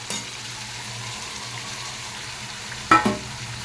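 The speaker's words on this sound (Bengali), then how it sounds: "এই স্টেজে দিয়ে দেবো আমি চিংড়ি মাছ ভাজা কটাকে।" Fried prawns go into a sizzling masala curry in a pan, a steady low frying hiss near the cook, with a brief burst of clatter and splatter as they are added toward the end.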